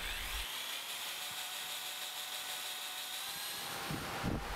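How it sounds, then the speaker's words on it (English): A 3/16 drill bit bores through a broken bolt on a Chevy LS engine, giving a steady, continuous high-pitched whine that holds for several seconds before a couple of brief low thumps near the end. "drill all the way through the bolt with a 3/16 drill bit"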